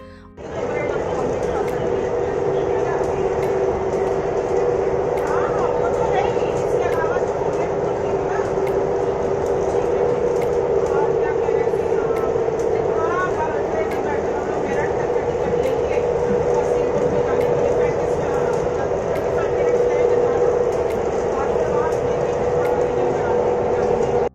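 Steady interior rumble and hum of a Namo Bharat rapid rail train in motion, a continuous loud drone with constant tonal whine throughout, no clear talk over it.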